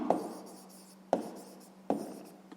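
A pen or pencil writes a math exercise on paper by hand, three short scratchy bursts of strokes at an even pace, close and quiet with no talk.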